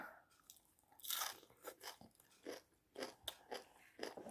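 Close, quiet crunching and chewing of a pounded long bean salad with shrimp paste, crisp fresh vegetables and boiled egg, in a string of short, uneven bites.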